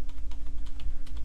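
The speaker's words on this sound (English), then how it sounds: "Press Tab to move between the fields, the Tab key on your keyboard" Quick, even keystrokes on a computer keyboard while filling in fields for a Microsoft Word 2010 mail merge, a close rhythmic patter of about a dozen taps over a steady low hum.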